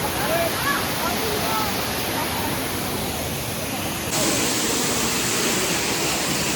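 A waterfall roars in a steady, loud wash of broadband noise that fills the whole clip, with a slight jump in level near the end and faint voices barely showing beneath.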